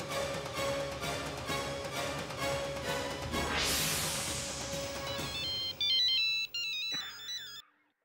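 A mobile phone ringtone sounds for an incoming call in a Marathi TV serial scene, a melodic tune playing over background music, clear and fairly loud, ending abruptly near the close.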